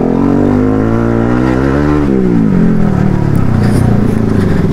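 Motorcycles, including a KTM Duke 250 and a Yamaha R15 V3, ride off together, their loud engines revving close by with pitch rising and falling through the gears.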